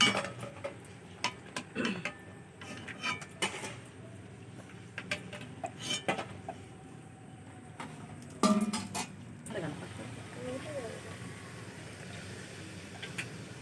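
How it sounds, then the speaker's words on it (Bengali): Fried luchi being lifted from a pan of hot oil, with light metal clinks and scrapes of a utensil against cookware coming in scattered bursts over a quiet kitchen background. "লুচিটা ভাজা হয়ে গেছে উপরে তুলে নিচ্ছে এখন"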